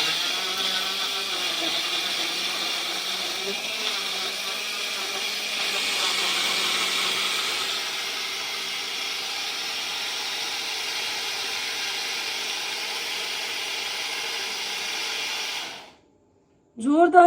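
A powerful electric mixer grinder blending mango into juice runs with a loud, steady high-pitched whir that shifts slightly in pitch before cutting off abruptly near the end.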